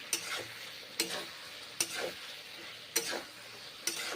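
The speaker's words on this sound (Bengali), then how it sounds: "কষে নিচ্ছি বড়াগুলো মশলার সঙ্গে মিশে যাবে তাই কষে নিচ্ছি" Bora fritters stir-fried with spices and kasuri methi leaves in a pan for a Bengali bora curry, with about five sharp scraping stirs at roughly one-second intervals over a soft, steady sizzle, close and moderately loud.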